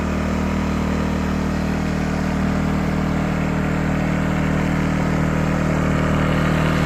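A LIFAN 2000W pure sine wave generator runs at a steady, moderately loud drone close by, a constant even hum with no change in pitch and no voices.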